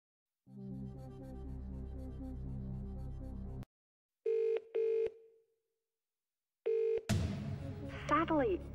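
Telephone dialing during a phone-a-friend lifeline in the Who Wants to Be a Millionaire DVD game, 2nd edition celebrity special: a few distinct keypad tones and a ringing tone follow a stretch of music, then a voice starts speaking.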